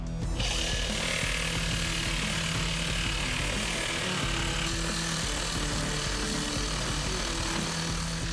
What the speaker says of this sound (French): Envoie la sabre. Je vais couper toute la volige là.